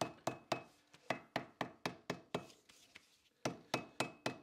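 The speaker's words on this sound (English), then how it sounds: "Take this over here and hammer this flat." Hammer beating leather flat on a workbench, a rapid steady series of sharp close strikes, about three per second, pausing briefly midway before resuming.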